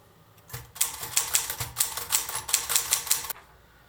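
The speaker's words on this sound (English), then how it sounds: "it's typed because I typed it on a typewriter, which you may see a clip of here." A mechanical typewriter clacks through a burst of about a dozen sharp keystrokes in an uneven rhythm, close and fairly loud, with no talking over it.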